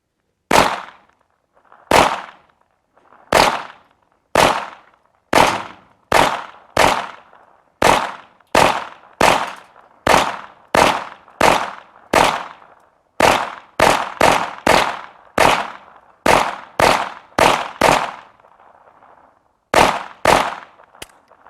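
A TEC 22 Scorpion pistol fires at the range in a long string of sharp, close, loud cracks, some evenly spaced and some in quicker bursts, each with a short ringing decay and no talk.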